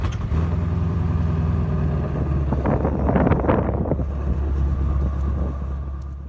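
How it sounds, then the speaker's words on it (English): Hennessey HPE850 Shelby GT350 with its active exhaust set to sport mode: a steady, deep engine rumble that swells briefly mid-way, with wind buffeting the microphone throughout. "Here's my friend going in there and switching it to the sport mode on the active exhaust."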